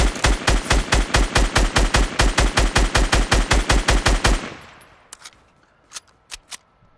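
Video game gunfire: a rapid, evenly spaced automatic burst rattles loud for about four seconds, then cuts off and gives way to a few sparse, fainter single shots.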